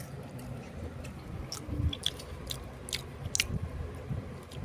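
Soft, close chewing and biting sounds of garlic pepper kuzhambu, with a few faint crunches and wet squishes, in a quiet room with no talking.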